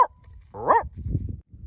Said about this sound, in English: Don't bark at people.